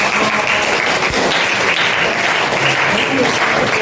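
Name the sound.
classroom applause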